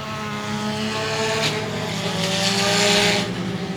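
Race car engines roar steadily and loudly at a night race on a track, a continuous whining drone that swells slightly toward the end, with no voices.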